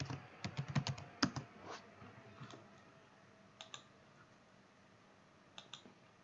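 A computer keyboard is typed on quietly to enter a layout file name in Android Studio: a quick burst of close keystrokes, then a few isolated taps after a pause.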